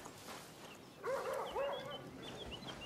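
Dogs barking in the Far Cry video game, a short burst of yelping barks over a quiet, faintly noisy game ambience, with a few scattered calls trailing off afterward.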